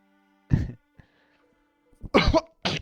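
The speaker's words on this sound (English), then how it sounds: "Almost like the cough I have." Three harsh, close coughs: one short cough, a pause, then a heavier double cough near the end, in an otherwise quiet room.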